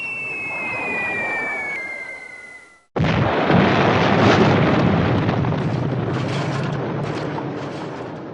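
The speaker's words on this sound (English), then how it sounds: "The B-17s drop their bombs." Board-game effect of B-17 bomber bombs: a falling whistle drops in pitch for about three seconds, cuts to silence, then a loud, sustained explosion rumbles and crackles to the end.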